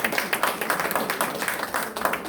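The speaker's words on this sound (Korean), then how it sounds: "다시 한번 큰 박수 보내주시기 바랍니다" An audience at a regional cultural arts school graduation festival lecture in Korea claps in quick, uneven bursts, a moderate patter of hands lasting a couple of seconds.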